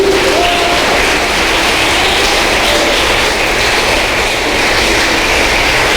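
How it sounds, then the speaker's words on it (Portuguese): A church congregation claps loudly and continuously, a thick wash of hands mixed with a heavy low rumble of room noise, close and sustained without a break. "aplaude o nome de Jesus"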